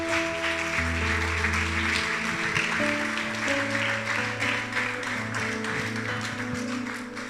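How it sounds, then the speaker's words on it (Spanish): A church congregation claps in a dense, steady wash of applause while sustained keyboard or organ chords play underneath, continuous throughout at a moderate level. "dale un fuerte aplauso al Señor"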